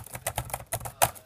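A short burst of typing on a 2015 12-inch MacBook's butterfly-mechanism laptop keyboard, several crisp, close key clicks in quick, uneven succession with one harder tap near the end.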